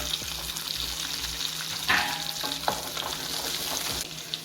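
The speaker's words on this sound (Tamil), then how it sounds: "உப்பு போட்டு இந்த சின்ன வெங்காயத்தை நல்லா வதக்கிக்கணும்." Small shallots sauté with a pinch of salt in a pan, a continuous close sizzle with a few stirring scrapes and one brief louder burst of hiss, no voices.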